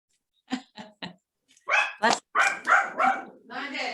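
A dog barks three times in quick succession, close by, then a person's voice continues talking over the quiet.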